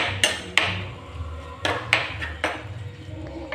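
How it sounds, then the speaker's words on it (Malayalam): Cooked mango is mashed in a pot for mango pachadi, heard as a series of sharp metallic taps and scrapes of a utensil against the pot, irregular and close, with soft background rumble. "മാങ്ങ ഇവിടെ നന്നായിട്ട് വെന്ത് വന്നിട്ടുണ്ട്. നമുക്ക് പതിയെ ഒന്ന് ഉടച്ചു കൊടുക്കാം."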